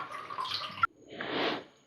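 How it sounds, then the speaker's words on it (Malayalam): Cut fish, a cleaned red snapper, being rinsed in water at home, with splashing and running water that stops abruptly and then returns as a louder wash. "അതിനുശേഷം നന്നായിട്ട് വെള്ളത്തിൽ കഴുകിയെടുക്കും കേട്ടോ."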